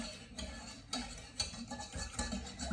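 A whisk scraping and stirring a roux in a pan, quiet irregular taps and scrapes against the metal with soft swishing in between, close and alone without talk.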